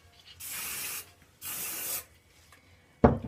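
Two long hissing bursts of spray, each about half a second, separated by a brief pause, followed by a short sharp knock at the end.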